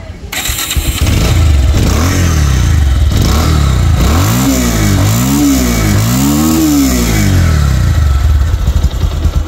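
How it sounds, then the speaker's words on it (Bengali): A Bajaj Pulsar 150cc motorcycle fires up close by, settles into a loud idle, then revs up and down in several rising and falling swells before holding a steady run. "তো এখন বাইকটা স্টার্ট করবো"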